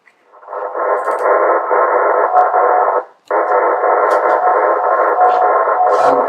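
HF radio receiver picking up interference from a noisy power line: loud continuous buzzing noise, briefly cut off for a moment, then resuming at the same strength.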